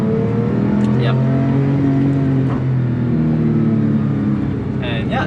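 A 3.8-litre naturally aspirated Porsche 911 Carrera 997.2 engine drones loud and close, its steady throaty note rising and swelling briefly as revs climb, sustained throughout.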